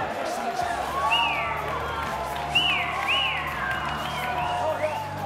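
A boxing crowd at an Australian heavyweight title fight cheers, whoops and whistles for the ring girl, a fairly distant wash of noise running beneath an announcer's voice.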